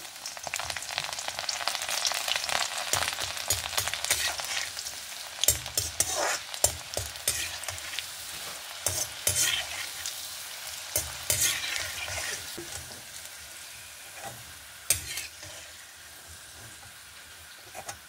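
Chopped onion and crushed garlic frying in pure coconut oil for a spicy onion chutney, a steady close sizzle with occasional stirring scrapes that gradually softens toward the end.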